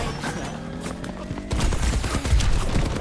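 Gunfire in a shooter video game, with bursts of rapid shots and mechanical clatter that grow louder and denser in the second half, with no talk over it.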